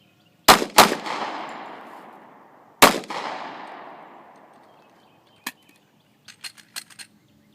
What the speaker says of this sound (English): Mozambique, 2 shots to the chest, 1 to the head